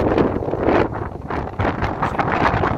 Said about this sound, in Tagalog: tangayin siya ng hangin